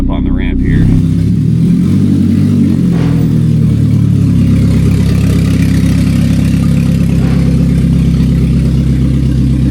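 A Ford Ranger Captiva van engine running loudly up close as it drives onto a ramp, a steady low drone with some rising revs and a clunk near the start.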